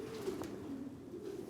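Almond pigeons cooing in a loft, a steady low murmuring coo that runs continuously with a few brief brighter flutters or calls on top, moderately close.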